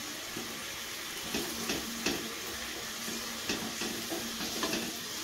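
Bengali olive chutney with a pinch of turmeric simmering in a pan, a constant bubbling hiss with soft irregular pops and faint stirring taps, steady and close, with no voices.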